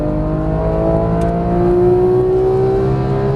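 A Porsche GT3 on a Las Vegas racing track pulls hard under full throttle, its engine note a smooth, steadily rising drone heard from inside the car, loud and continuous.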